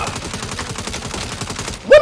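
Rapid automatic gunfire in the Saints Row video game, a fast stream of close, loud shots that ends in a sharper burst.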